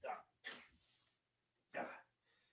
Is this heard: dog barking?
yes